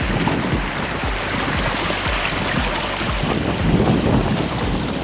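A small glacier-meltwater river high in the Karakoram mountains rushes steadily, a loud, continuous broadband roar close to the microphone with some wind buffeting and no talking.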